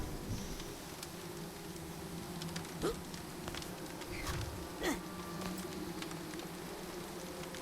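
Bees buzzing in the video game Psychonauts 2, a steady insect drone around a theater with a bee smoker, with a few faint clicks and rustles over a constant low hum.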